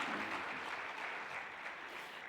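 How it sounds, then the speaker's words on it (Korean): Church congregation applauding to welcome a guest pastor at a prayer-mountain revival service, an even, fairly faint wash of clapping from a large crowd. "박수로 맞이하시겠습니다"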